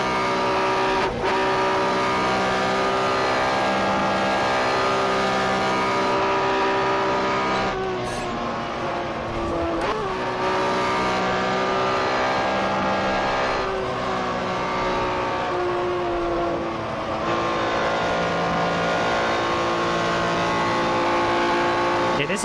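A 1964 Porsche sports racing car at Spa-Francorchamps, its engine holding a steady, loud harmonic drone, with brief lifts and rises in pitch as it races, under a faint voice.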